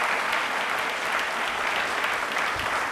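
An audience claps loudly and continuously for about three seconds at a Hindi Day general-knowledge quiz event, a dense steady wash of applause with no voices on top.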